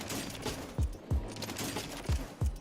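Rapid gunfire from a weapon on the Warzone video game firing range, a burst of evenly spaced loud shots with punchy low thumps, close and alone with no talking.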